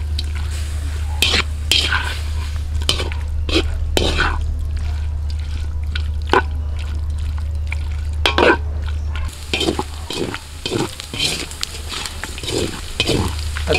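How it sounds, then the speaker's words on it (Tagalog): Pork cooking outdoors in a pan for adobong baboy, frying as its fat renders out, heard as a low steady sizzle under repeated stirring and scraping clatter, close and fairly loud. "hayaan natin to dito hanggang sa lumabas yung mantika at mag-brown yung karne"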